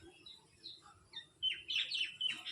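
A pet bird chirps after being fed at home, a few short high tweets at first, then a louder, busier burst of chirping close by.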